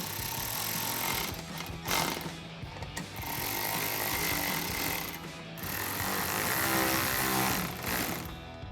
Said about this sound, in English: And we'll tighten all of those down with that same 10mm socket.